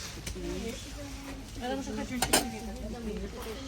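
Ceramic cups, a one-litre mug and saucers clink and knock as they are handled, with a sharp clatter partway through, while a person speaks over it.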